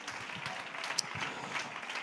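A church congregation clapping along during a sermon, a dense steady patter of many hands heard from a distance, fairly faint and continuous for the whole moment.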